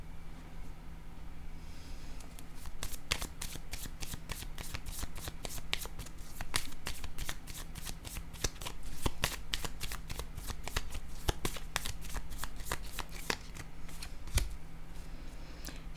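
A deck of cards is shuffled and handled during a card reading, giving steady, close riffling with rapid crisp snaps and flicks running almost nonstop for the whole stretch.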